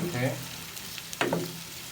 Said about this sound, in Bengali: পেঁয়াজ দিয়ে এখন একটু নেড়ে দিচ্ছে।